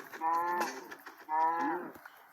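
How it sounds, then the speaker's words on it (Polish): Two long, drawn-out cow moos in a video game, one after another, fairly clear against a quiet background. "Jezu, trzy krowy."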